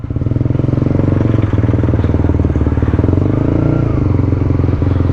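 A Honda CB150X motorcycle engine idles close by with a steady, loud rumble and a faint rhythmic clatter, running continuously without pause.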